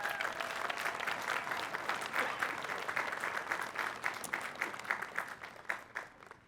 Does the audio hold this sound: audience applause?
yes